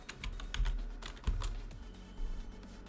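Quick bursts of keystrokes clatter on a computer keyboard, a dozen or so crisp clicks in an uneven rhythm with a couple of heavier key thumps, close and alone.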